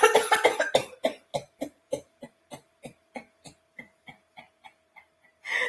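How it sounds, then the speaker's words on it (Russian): Coughing during a breathing laughter yoga exercise, a rapid burst of loud coughs slowing into a steady series of short, evenly spaced coughs that fade softer before a final breath. "немножко еще подкашляемся и вдох"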